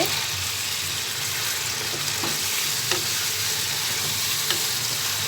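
Chicken pieces frying in a pan for a tomato kosha sizzle steadily up close, with occasional sharp clicks and scrapes from a spatula stirring the meat.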